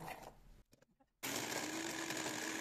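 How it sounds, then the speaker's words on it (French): A blender whirs loudly and steadily as it grinds ladyfinger biscuits into crumbs for tiramisu balls, starting abruptly after a brief lull and running continuously to the end. "on va venir mixer nos biscuits cuillères"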